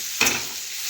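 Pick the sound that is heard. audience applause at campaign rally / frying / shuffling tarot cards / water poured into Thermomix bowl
frying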